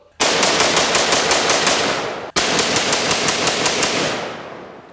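A pistol fires two full magazines in rapid succession outdoors: two long, loud bursts of closely spaced shots, split by a short pause for the magazine change.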